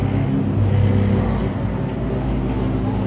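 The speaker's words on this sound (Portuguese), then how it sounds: "Tá passando o caminhão" Heavy truck passing by outside, a steady low rumble of engine and tyres that swells and then eases slightly, loud and continuous with no talk over it.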